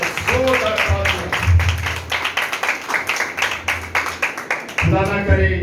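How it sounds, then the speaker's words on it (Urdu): Church congregation at an Easter sermon clapping loudly in steady rhythmic unison, close and sustained, with brief voices at the start and end. "جو نجات پا چکے ہیں ان کے وہ تالیاں بجائیں"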